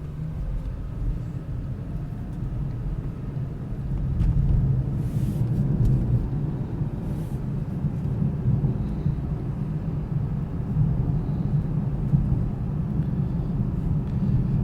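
Steady low engine and road drone from a 2019 Lexus LC500h hybrid sports car cruising on a road trip, quiet and even, with no voices over it.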